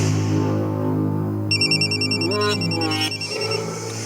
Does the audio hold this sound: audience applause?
no